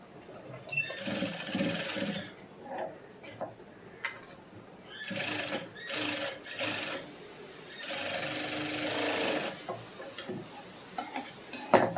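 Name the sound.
sewing machine stitching a blouse lining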